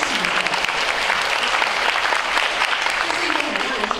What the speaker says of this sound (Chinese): 掌声啊！